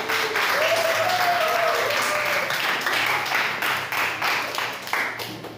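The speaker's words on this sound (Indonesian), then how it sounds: "Oke, tepuk tangan untuk kita semua." A classroom group applauds together, steady dense clapping filling the room for several seconds with a few voices calling out at the start before the clapping thins slightly toward the end.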